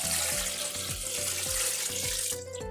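Hot water being poured into a pot to make soup, a steady close splashing stream with a rhythmic gurgling pulse, tapering off at the end.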